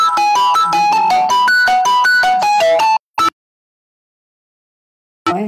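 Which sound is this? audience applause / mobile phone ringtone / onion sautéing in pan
mobile phone ringtone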